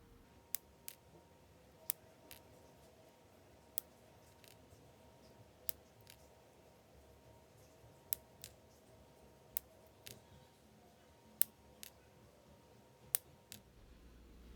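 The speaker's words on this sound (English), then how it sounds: "Use your wire cutters to snip the leads." Wire cutters snip resistor leads on a guitar boost pedal circuit board, a series of sharp, separate clicks spaced irregularly over a quiet background, close and with no talk.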